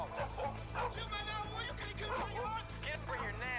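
A dog barks and yips repeatedly in short, excited bursts, with some whimpering, close by during a police confrontation, while people talk over it.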